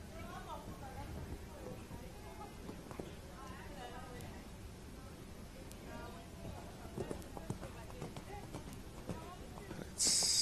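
A horse runs and jumps in an equestrian show-jumping competition at the Steyn City Cup, with faint rhythmic hoofbeats under background crowd noise and an announcer talking.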